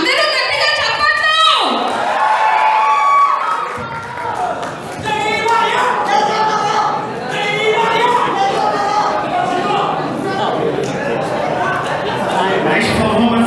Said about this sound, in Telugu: అందరూ గట్టిగా చప్పట్లు.